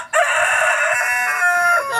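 A Brahma rooster crows once close by, a single loud, drawn-out call lasting nearly two seconds with no other sound around it.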